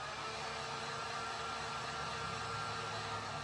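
A hair dryer quick-drying paint on a Rudolph the Red-Nosed Reindeer painting, a steady, even airy whoosh that holds constant throughout, fairly soft and heard alone.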